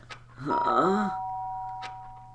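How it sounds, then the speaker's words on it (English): A two-tone electronic doorbell chime in the video game Danganronpa: Trigger Happy Havoc rings out with sustained tones that hang and fade, over a low steady hum, with a brief voice-like sound partway through. "The sharp sound of the doorbell pierced my sleepy haze and pulled me back to the real world"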